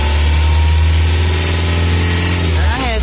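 A Mitsubishi L300 diesel engine running loud and close at high revs, giving a steady deep drone with a strong low rumble that dips briefly near the end as the throttle eases.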